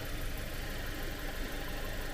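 An Audi car engine idles just after starting, giving a continuous low rumbling hum with slight vibration, steady and close, with no talk.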